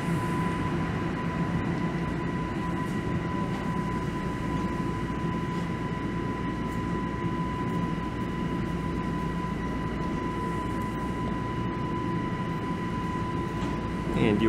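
Inside a Toronto subway car late at night, the train runs with a steady loud rumble and rail roar plus a constant whining tone, unbroken for the whole stretch, with no talk.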